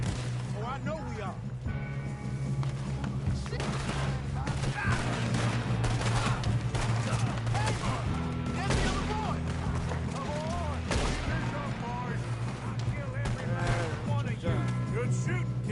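A gunfight in Red Dead Redemption 2 with repeated shots and volleys cracking through the scene, steady and fairly loud under overlapping voices of people talking and shouting.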